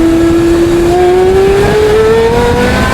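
A modified Porsche Carrera GT engine revving during a downshift, one loud sustained wail climbing steadily in pitch as the revs rise, heard up close and alone.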